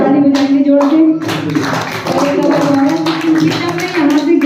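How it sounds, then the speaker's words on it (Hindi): A church congregation claps together loudly and steadily, rhythmic hand claps over a persistent tonal hum with voices mixed in. "ताली बजाएंगे जोड़ के।"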